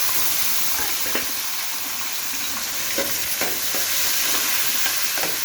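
Tomatoes go into browned onions frying in a pan, with a constant loud sizzle and repeated scraping stirs of a spoon across the pan.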